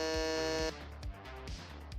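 Game show buzzer in a gaming trivia match, a loud flat electronic buzz held for about three quarters of a second and then cut off, followed by faint background noise.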